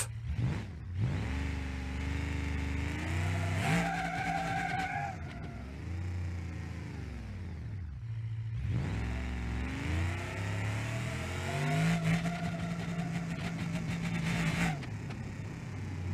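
Simulated car engine in BeamNG.drive revving hard and bouncing off the rev limiter, the pitch climbing and stuttering in repeated rasping bursts with tire skid noise, loud and close throughout, no talking.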